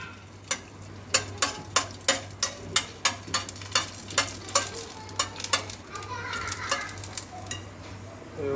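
Golgappa puris frying in hot oil outdoors in a park, with a steady sizzle broken by a rhythmic run of sharp clicks and taps from a ladle or strainer, close and moderately loud, with children faintly audible in the background.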